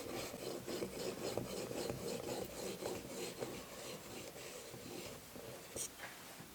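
Light finishing passes of a knife edge on a 6000 grit sharpening stone, a soft continuous rasping rub with steady back-and-forth strokes, close and alone.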